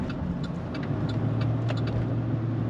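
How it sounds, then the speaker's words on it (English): Tire noise from a Chevy Silverado pickup while driving, a steady low road roar with engine hum heard from inside the cab, continuous and moderately loud. "I hear a bunch of tire noise, some random vibrations and whatnot"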